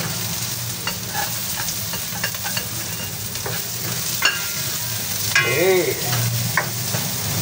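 Upo gourd, okra and pechay sautéing in a pan, a steady close sizzle with a few light stirring scrapes, and someone briefly speaking near the end.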